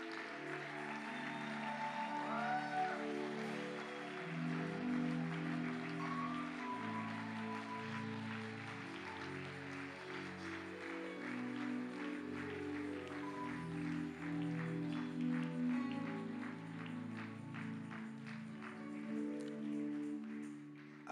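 Church congregation clapping to acclaim God, rhythmic applause building under sustained music and singing that fills the room throughout.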